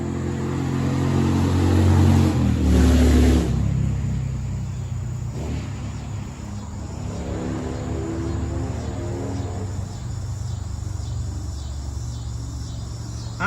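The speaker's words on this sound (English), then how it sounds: "Goes a motorcycle up the main road." A motorcycle travels along a main road at a distance, its engine a steady low rumble that swells early and then fades, with crickets and insects chirping faintly over a quiet outdoor background.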